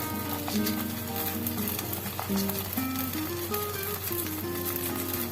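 A small rice pancake fries in a little ghee, giving a close, steady, even sizzle that carries on unbroken throughout.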